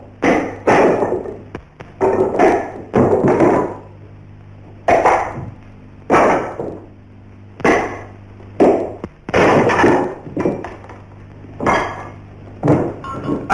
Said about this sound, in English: one of the tests of proficiency consists of breaking 3 1-inch boards with the fist or feet, or cracking 10 pieces of slate with one blow